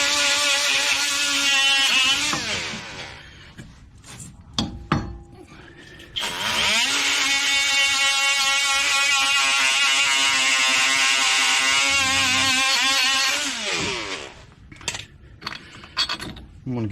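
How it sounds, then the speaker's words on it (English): A small die grinder whines at high speed against a hub bearing on a 2014–2019 Chevrolet Silverado-type truck, two long bursts with a short stop between them, loud and close with no talk over it. "I'm just going to use my little die grinder here."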